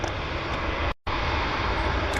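Jet aircraft taxiing on the runway at Vancouver airport, a steady broadband engine roar heard from a distance, briefly cut out for a moment partway through, with no one talking.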